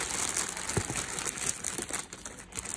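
Crinkly packing paper is unwrapped from a Kurt Geiger shoe box, giving a close, continuous rustling and crackling with a few sharper crinkles and no speech.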